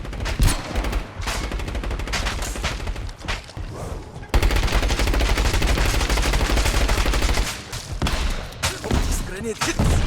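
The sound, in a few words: grenade explosion amid gunfire, video game Scavengers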